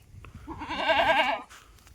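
A Kathiyawadi goat at a goat seller's farm lets out one loud, close, wavering bleat lasting about a second, with quiet surroundings before and after.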